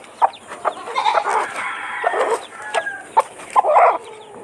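A Rhode Island Red hen clucks repeatedly in short, irregular bursts, close by, with a few sharper squawks among farmyard background noise.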